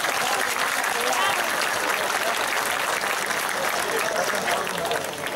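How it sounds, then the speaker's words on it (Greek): Dense, steady applause from a large crowd at an outdoor fishermen's festival in Nea Artaki, Greece, holding at full strength for the whole stretch with no talk over it. "το χρειάζονται το χειροκρότημα."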